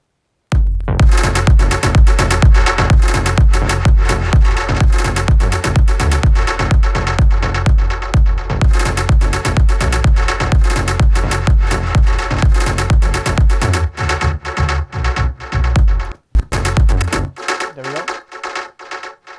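Electronic dance track break from a festival mainstage set, with bass, sub-bass and punchy kick drum pounding in a steady loud rhythm, dense and continuous, thinning out near the end.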